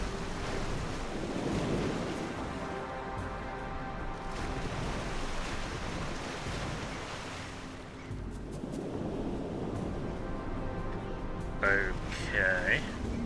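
Water being dumped from a submarine in the video game Besiege makes a continuous rushing, surf-like wash of churning water, with a few brief mechanical tones near the end.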